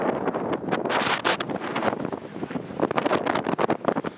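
Strong gusting wind on the mountain at Puy de Sancy buffets the microphone with loud, continuous roaring bursts that rise and fall in waves.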